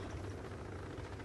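Helicopters fly over a battlefield in the strategy video game End of Nations, heard as a steady, low rotor drone. It is faint and continuous throughout, with no voices.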